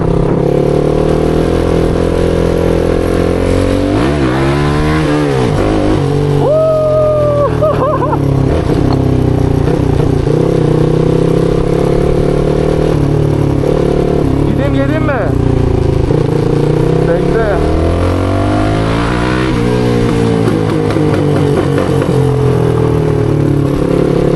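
A motorcycle engine roars up close during a wheelie, repeatedly revving and surging in pitch, loud and continuous throughout.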